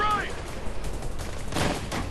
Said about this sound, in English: They get stun locked by the bullets of the turret.